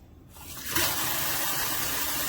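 Water flows steadily through a Fil-Fresh replacement filter in a Brita pitcher, a soft trickle that swells after a brief quiet start into a constant, close, even rush.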